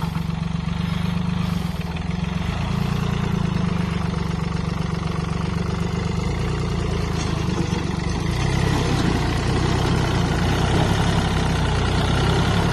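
A Yanmar 28-horsepower tractor engine idles steadily nearby with a low, continuous chugging rumble that holds an even level throughout.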